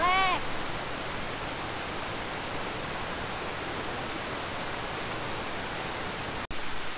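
The Salopa waterfall pours in a steady, dense roar of falling water that stays loud and constant from start to end, with a brief dropout near the end.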